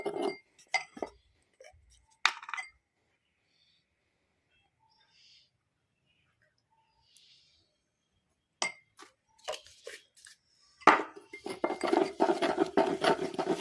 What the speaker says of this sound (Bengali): এবার এটাকে মিক্স করবো ভালো করে।